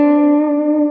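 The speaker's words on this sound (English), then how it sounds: "If I want warm and soft tones," Sustained guitar note picked close to the neck for a warm, soft tone, ringing steadily with a rich stack of even overtones and a touch of effects-style reverb, heard alone.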